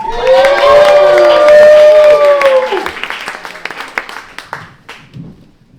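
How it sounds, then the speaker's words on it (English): Comedy club crowd at Ft Smith Brewing Co cheering and clapping for a stand-up comic, with loud whoops and sustained shouts up front that fade into scattered handclaps by the end. "Keep clapping for Stephen Reid, everybody."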